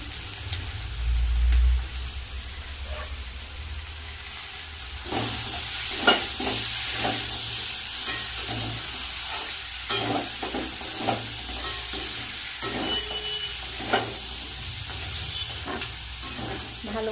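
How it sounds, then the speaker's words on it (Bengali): Crab curry masala with green chillies stir-fried in a pan, steady sizzle and hiss under repeated scraping and clinking of a spoon against the pan, close and fairly loud. "ভালো করে কষিয়ে নিচ্ছি।"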